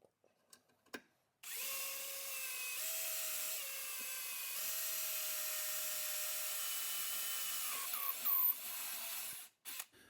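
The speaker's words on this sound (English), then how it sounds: "So it should be able to drill straight on through and out the back side." A power drill bores through metal stock for an electric-conversion adaptor plate on an RX7, running as a steady loud whine for about eight seconds with slight pitch shifts as the load changes, then spinning down and stopping.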